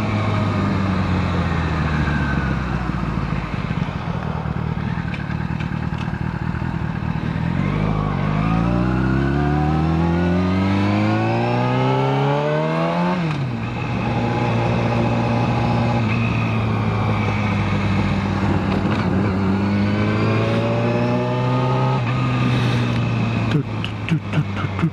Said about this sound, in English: This motorcycle is all show, no go. It makes a lot of noise though.